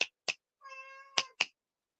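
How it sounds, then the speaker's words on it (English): A domestic cat meows four or five times in quick succession, short clear calls with one longer drawn-out tonal meow in the middle, close and alone against silence. "So is that your cat, though?"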